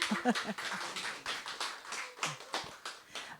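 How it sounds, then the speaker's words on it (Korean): A lecture audience claps in a sparse, scattered burst, with uneven separate hand claps and taps rather than a full roar, fairly quiet in the room. "박수 한 번만 쳐주세요."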